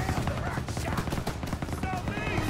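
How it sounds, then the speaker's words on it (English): MG-42 machine gun fire in Call of Duty WW2 battlefield combat: rapid, dense bursts of automatic gunfire continuing without pause, with shouted voices mixed into the din. "MG-42!"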